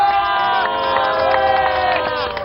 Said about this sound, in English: this cheering will continue through the World Cup